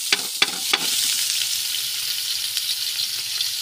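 Spices fry in hot oil for noodles, a steady close hiss of sizzling broken by a few sharp clicks and spatters near the start, with no voices.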